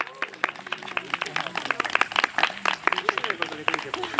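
Audience applause for a stage director at a theatre event: dense, steady clapping from a crowd, with voices calling and talking over it throughout.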